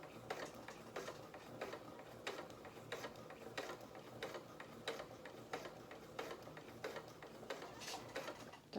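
A sewing machine stitches ribbon for a pair of doll's bloomers, making a quiet, rapid series of mechanical clicks and ticks in a steady rhythm with no one talking.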